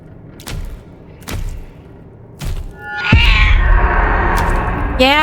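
An angry cat meowing in a video game: several sharp, drawn-out meows and a rising caterwaul, with dull thuds in between, fairly close and loud.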